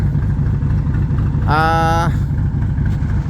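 Excavator backhoe engine rumbling steadily at close range as the machine is driven down off a trailer, a continuous low drone with a brief higher tonal whine midway and a voice speaking over it.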